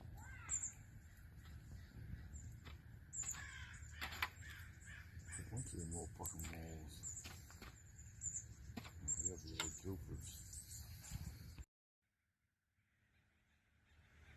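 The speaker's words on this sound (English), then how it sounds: "This crow here just climbed up on my truck and made himself at home." A crow perched on a pickup truck along the California coast gives repeated caws, fairly close, mixed with outdoor background noise and some talking, before the sound cuts off near the end.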